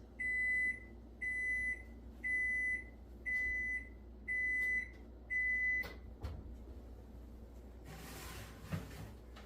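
An oven timer beeps six times in an even rhythm, each tone loud and lasting about half a second, as a chicken pot pie finishes baking, followed by soft clatter and shuffling in a quiet kitchen.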